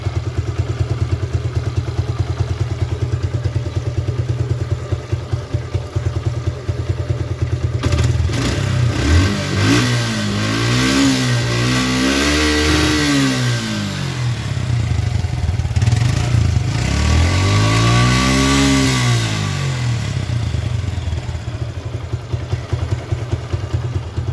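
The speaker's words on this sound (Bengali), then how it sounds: "আপনাদের ইঞ্জিনের কাছে ইঞ্জিনের সাউন্ড শোনানো হচ্ছে দেখুন" Suzuki Gixxer Monotone 2024 motorcycle idling close by, then revved several times in rising and falling sweeps before settling back to a steady thumping idle, no talking.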